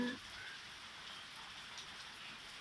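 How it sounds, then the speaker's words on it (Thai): Steady rain falls all day through fog during an outdoor sweet potato roasting session, a soft, even hiss that stays constant and fairly faint throughout with no voices. "ฝนก็ตกทั้งวัน"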